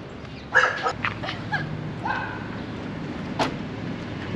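A dog gives several short yips and whimpering barks at close range, spaced irregularly over a quiet background.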